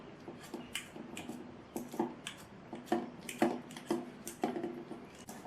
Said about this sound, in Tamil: நான் ஒரு ஃபோர்க்கை வச்சு இந்த மாதிரி மசிச்சு விட போகிறேன்.